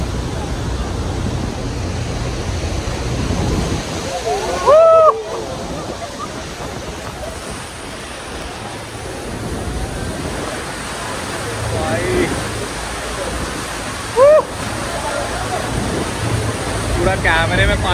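Niagara Falls thunders up close, a loud, constant broadband roar of crashing water with wind buffeting the microphone, as people shout over it.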